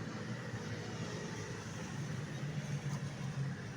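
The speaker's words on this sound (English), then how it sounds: "Sorry for the disturbance because I am on the side of the road. That's why you are having a lot of noises." Steady roadside traffic beside a bus stop: a continuous low engine rumble and broadband road hiss that stays even and moderately distant throughout, with no voices.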